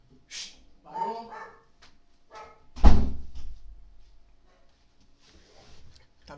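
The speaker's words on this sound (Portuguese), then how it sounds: "Tá ventando, então a porta bateu." A single heavy door slam booms midway as the wind blows it shut, preceded by brief speech and a few light knocks, then quiet with faint rustling afterward.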